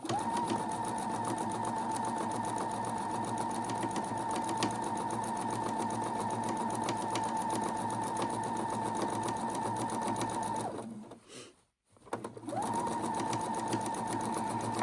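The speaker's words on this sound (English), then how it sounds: "We have one more bottom piece and top piece to sew together" A sewing machine stitches quilt top and bottom pieces together, a steady loud whir that runs nearly the whole time, stops abruptly for about a second near the end, then starts up again.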